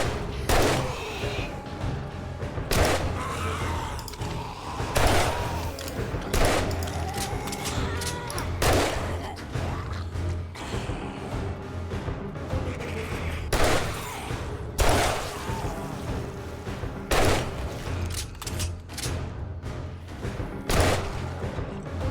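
Rapid gunfire from a fast-reloading gun in the zombie survival game 7 Days to Die during a blood moon, sharp repeated shots in uneven bursts with brief pauses, loud and close, with occasional talk between them.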